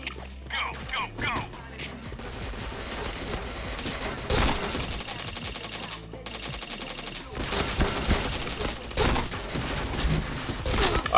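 Rapid bursts of video game gunfire, loud and dense, rattle through the clip with brief gaps, with a voice talking over parts of it.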